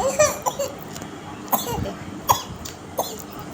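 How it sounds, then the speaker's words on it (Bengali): A baby gives several short, sharp coughs spaced across a few seconds, fairly close and moderately loud. "কুকু কুকু করে কাশতেছে বুড়ো মানুষে।"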